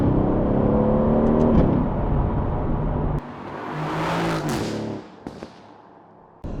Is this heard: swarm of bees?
no